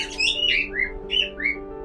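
A bird held in the hand gives several short, shrill squawks and whistling calls in quick succession, close by and fairly loud.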